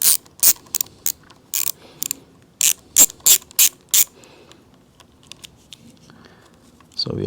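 A hand ratchet removes the brake lever clamp screw on a Harley-Davidson, with a quick series of sharp, close clicking bursts in uneven rhythm that then stop and leave near silence.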